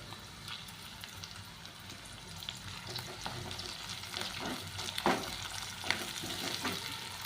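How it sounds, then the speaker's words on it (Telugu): Coarsely pounded ginger paste and curry leaves frying in a pan for a tomato and okra stew: a continuous quiet sizzle with scattered crackles and stirring scrapes, heard close with no talking. "కచ్చా దంచుకున్న అల్లం పేస్ట్ ఇది కూడా కొంచెం వేగాలన్నమాట"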